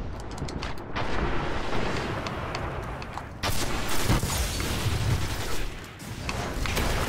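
Gunfire and booming blasts from a competitive Destiny Crucible PvP match, with a steady barrage of shots over dense, noisy game action throughout.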